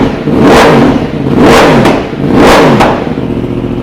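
A 2015 Yamaha R1 with a crossplane crank engine and a decatted Pipewerx exhaust revs hard three times in a row, each loud, raspy surge swelling and falling back, close up with no talk.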